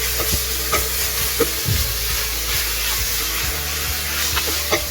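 Oil sizzles and crackles steadily as chopped ginger and green chili fry in a pan, with occasional stirring clinks and scrapes over the constant hiss.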